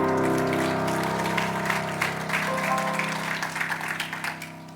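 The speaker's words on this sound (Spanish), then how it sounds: "Denle ese aplauso fuerte al Señor" A church congregation's applause for the Lord at a Christian worship service, a steady wash of many hands clapping over a sustained tonal musical backdrop, thinning slightly toward the end.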